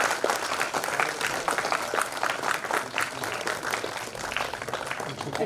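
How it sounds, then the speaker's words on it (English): Sustained round of audience applause for a keynote speaker at an institute's silver jubilee celebration, many hands clapping in a busy, even wash with faint voices mixed underneath. "Big round of applause."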